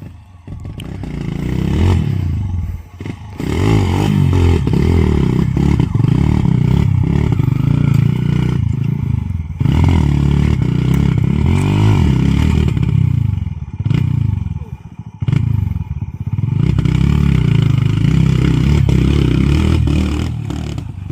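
Motorcycle engine revving hard on a rough mountain trail up Mt. Tapulao, loud and close, with repeated surges of throttle, clattering and scraping over rocks, and brief dips between pulls.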